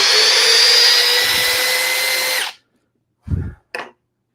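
Makita 40V drill driver spinning in reverse on speed 1, a loud steady high whine for about two and a half seconds that stops abruptly, then two short bumps or knocks.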